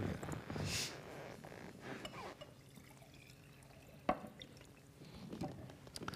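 Water is poured from a bottle into a glass on stage during a talk event, a soft, faint trickle in a quiet room, followed by a small, sharp knock around the middle and low background rustling.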